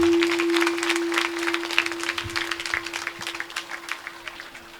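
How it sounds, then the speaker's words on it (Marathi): Audience clapping hands during a Marathi kirtan: many people clap in a steady rhythm over a sustained drone note, the claps becoming sharper and more distinct toward the end. "म्हणून विठ्ठल नामात टाळी वाजवली पाहिजे."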